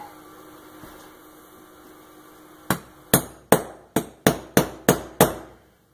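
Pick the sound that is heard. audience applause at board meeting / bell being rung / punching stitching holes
punching stitching holes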